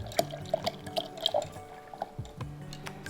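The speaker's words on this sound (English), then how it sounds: "we're gonna pour it right into the pitcher" Dissolved sugar syrup for peach sweet tea is poured into a pitcher, giving a steady liquid trickle with small splashy drips close by and no talk.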